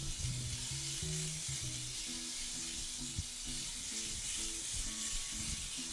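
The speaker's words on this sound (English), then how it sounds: "then you add in your onions to sweat out." Chopped onions sweat in a frying pan with a steady, even sizzle that holds close and constant throughout, with no voices.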